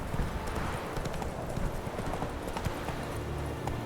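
Roach, a horse in the video game The Witcher 3, gallops with a fast, continuous drumming of hooves, close and steady against a dense noisy background.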